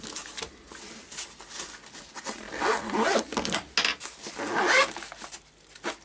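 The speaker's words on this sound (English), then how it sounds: "Zip open both sides." A zipper on a personal first aid kit is pulled open in several rasping strokes, close and fairly crisp, with no one speaking.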